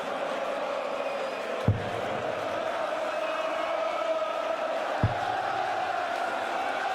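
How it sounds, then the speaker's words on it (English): A large arena crowd at a darts match in Belfast's Odyssey Arena keeps up a steady, loud roar throughout, with two brief low thuds standing out partway through. "the Belfast crowd making a huge noise here in the Odyssey Arena"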